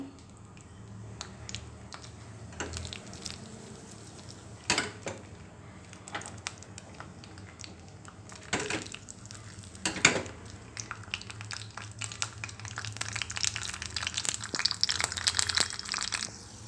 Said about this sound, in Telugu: నెయ్యి హీట్ అయింది ఇప్పుడు జీడిపప్పు బాదం పప్పు వేసి వేయించుకుందాం